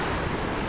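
Ocean surf surges and crashes close by in a steady, loud wash of water with wind buffeting the microphone throughout.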